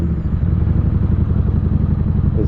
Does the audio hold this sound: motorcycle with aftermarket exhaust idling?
yes